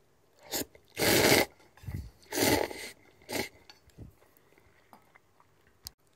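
Loud, close slurping bursts of olive somen noodles from Kagawa, followed by softer chewing and small mouth sounds, then quiet.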